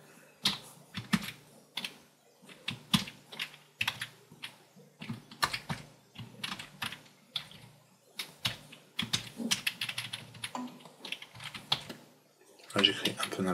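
Fast typing on a computer keyboard while writing equations in MathType: dense, irregular bursts of crisp key clicks run nearly nonstop, close and fairly quiet, with a brief flurry near the end.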